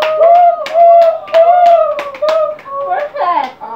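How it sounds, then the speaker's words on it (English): A sixth-grade class performs a rhythmic group clap in a classroom, several sharp, evenly spaced clap bursts mixed with children's chanting voices. "let's give ourselves a kalapati clap"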